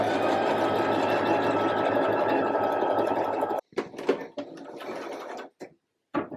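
A sewing machine stitches a puff sleeve seam in a steady fast whirring run for several seconds, then stops, followed by a few brief clicks and rustles of handling fabric nearby.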